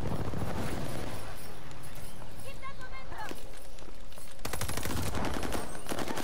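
Gunfire in a Call of Duty match, sharp bursts of automatic shots with a louder rapid volley near the end, heard under ongoing game noise and a player's voice.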